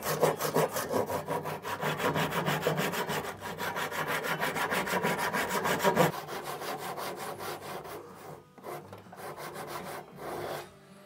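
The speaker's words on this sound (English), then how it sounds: "so I'm actually gonna cut along this line on the bandsaw" A bandsaw cuts through wood for a double-bit axe handle with a rapid, rasping grind that runs loud and steady at first, then thins and breaks into short bursts as the cut ends.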